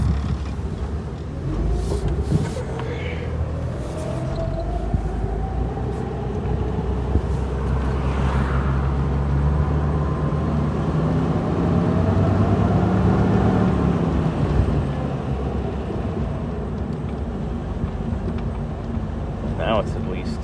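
A 2000 Jeep Wrangler's engine drones steadily while driving, its pitch rising and falling in slow surges over a constant road and wind rumble.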